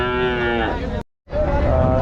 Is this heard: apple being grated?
no